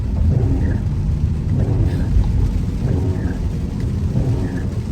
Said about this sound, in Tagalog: So yeah, yan nyo guys, umuulan.